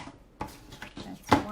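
A paper trimmer slices through 250 gsm cardstock, giving a couple of crisp, close cutting clicks with a sharper, louder snap near the end over a quiet room.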